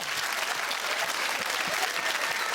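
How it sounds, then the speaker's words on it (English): A studio audience claps in a dense, steady burst of applause that fills the whole stretch at an even level, with no voices on top. "And the audience clapped, and as the applause died"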